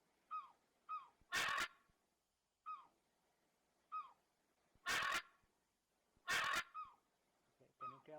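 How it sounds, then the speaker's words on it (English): Calls of an Amazon macaw and a seagull alternate in a sonified bar chart: short, clear bird-like squawks repeat in a loose rhythm, and the louder, broader bursts stand out over the fainter calls. "Notice the macaw is louder than the seagull, indicating it has the higher value."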